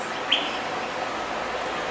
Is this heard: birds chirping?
yes